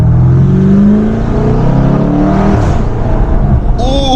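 A 640-horsepower BMW M550i pulls hard, its exhaust roaring loud and close as the engine climbs through the revs, with a gear change midway and a sharp whine near the end.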